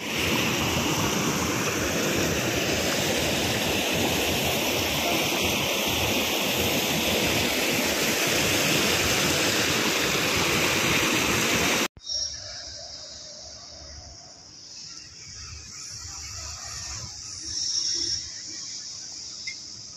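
A river flows between hills with a loud, steady rush of water for about twelve seconds, then the sound cuts to a much quieter outdoor scene with faint water and insect sounds.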